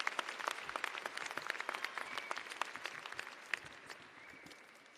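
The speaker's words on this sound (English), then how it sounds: "let's give him one more round of applause" A large commencement ceremony audience claps for a speaker, a faint, distant-sounding patter of many hands with a few louder individual claps, gradually tapering off.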